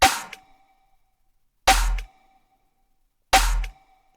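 Three evenly spaced snare hits layered with a tonal layer, each a bright crack with a ringing pitched tone underneath, separated by silence.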